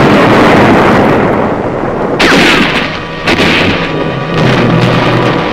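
WWII jungle-ridge combat as Marines fire bullets and use hand grenades and explosive charges: loud, dense gunfire and booming blasts fill the scene continuously, with several sharp explosive bursts.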